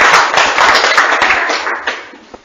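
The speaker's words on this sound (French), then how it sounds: "applaudis pour frère Ferrand" An audience at a talk bursts into dense, close applause that fades out over a couple of seconds, with a last stray clap.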